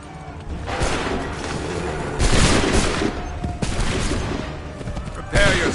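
Musket volleys crack out in the Assassin's Creed III battlefield, loud bursts of massed gunfire at about 2.2 s, 3.6 s and 5.4 s over continuous battle noise and shouted orders.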